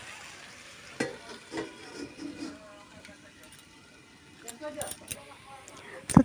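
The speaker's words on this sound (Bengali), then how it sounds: "তো দেখো, আমার আলু ভাজা অলরেডি হয়ে আসছে।" Potatoes fry in a pan with a soft sizzle, broken by a few clinks and scrapes of stirring, some close and sharp, the whole thing fairly quiet.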